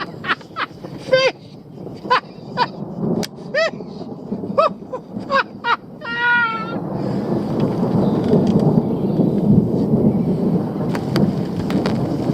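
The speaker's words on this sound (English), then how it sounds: "There's just a flash of lightning, thunder." Thunder rumbles through a storm over a fishing lake, a low, broad roll building and holding in the second half after a stretch of scattered bird calls.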